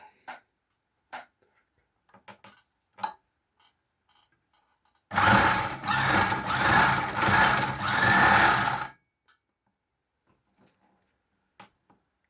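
An unthreaded three-thread overlock sewing machine, fitted with an industrial needle, hums close by in a steady, loud mechanical run of about four seconds, framed by quieter clicks and handling taps before and after.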